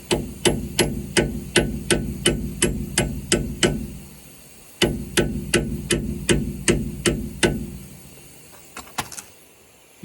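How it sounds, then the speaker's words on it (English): A small metal punch is struck rhythmically against locking tabs on a Humvee geared hub. The sharp, ringing hits come in two quick runs of about a dozen each, with a brief pause between the runs, followed by a few lighter knocks. "I'm just going to use this little punch to release those locking tabs."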